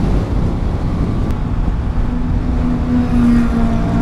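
Heavy wind blast roaring past a rider on a moving Triumph Daytona 660 motorcycle with an Akrapovic full-system exhaust, a loud steady buffeting rush with a low engine drone beneath and no voices.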